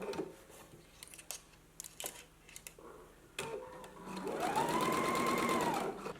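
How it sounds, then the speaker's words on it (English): A home sewing machine stitches a 5/8 inch seam on a top: a few faint clicks and handling taps come first, then a steady, fairly quiet motor whir with rapid needle chatter running to the end. "you're going to stitch it at a 5/8 of an inch seam allowance"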